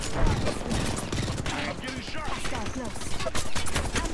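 Dense rapid gunfire in a video game, sustained bursts of shots over a busy mix of game effects, with player voices talking over it.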